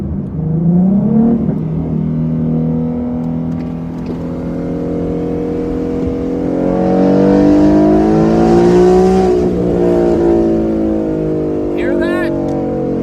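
A Ford Mustang with a 3.7 engine and Reaper exhaust revs and pulls while driving with the windows down, a loud, rising and falling engine drone heard steadily from inside the car.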